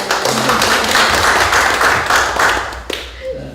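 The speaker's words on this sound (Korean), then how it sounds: "우리 박수 한번 하겠습니다." Church congregation applauding together after a pastor's invitation, a dense, steady burst of many hands clapping close and loud for about three seconds before fading out.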